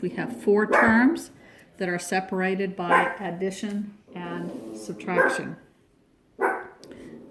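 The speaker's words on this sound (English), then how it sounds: "Sorry about that interruption. That's my dog." A pet dog barks indoors in several sharp bursts, loud and close, interleaved with a person speaking.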